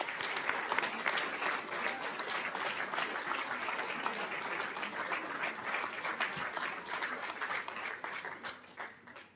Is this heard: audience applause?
yes